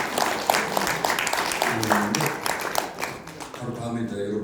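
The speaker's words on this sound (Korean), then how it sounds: "박수 한번 주세요." Audience applause fills a lecture hall at a special guest talk, dense clapping running steadily throughout, loud and near, fading slightly toward the end.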